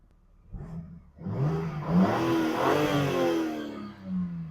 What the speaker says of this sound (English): We'll give it a bit of a rev,